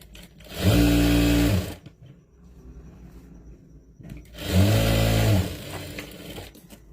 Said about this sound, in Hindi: पहले यहाँ से हम स्टिच करना स्टार्ट करेंगे।